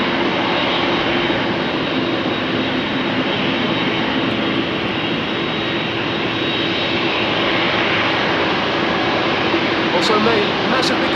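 Airbus A330 jet engines roar loudly and steadily, a broad continuous rush of aircraft noise with no break, heard close as airliners power up at Amsterdam Schiphol Airport in the rain.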